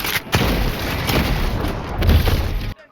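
Punsher Plasma weapon firing in the shooter game Helldivers 2, a heavy booming discharge followed by a dense, crackling blast wash lasting a few seconds before cutting off abruptly.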